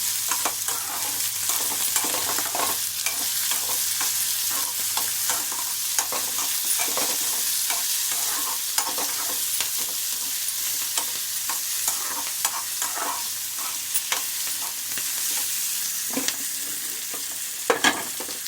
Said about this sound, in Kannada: ಈರುಳ್ಳಿ ಉರಿಯೋವಾಗ ಸ್ವಲ್ಪ ಉಪ್ಪಿನ ಪುಡಿ ಹಾಕ್ಕೊಂಡ್ರೆ ಈರುಳ್ಳಿ ಬೇಗ ರೋಸ್ಟ್ ಆಗುತ್ತೆ.